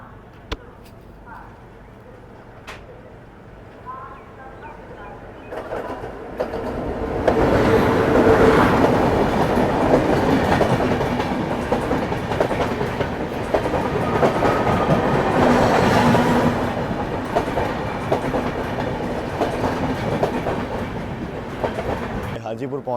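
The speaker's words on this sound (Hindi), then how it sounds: "ये आपकी आ रही है ट्रेन सीतामढ़ी आनंद विहार एक्सप्रेस" The Sitamarhi–Anand Vihar Express pulls into a station, its rumble swelling from a low hum into loud, steady clickety-clack of wheels over rail joints. People talk at the start.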